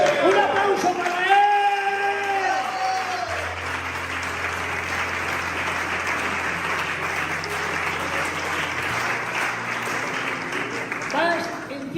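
A church congregation applauds in a sustained, dense wash of clapping with some voices mixed in, steady for several seconds before fading out.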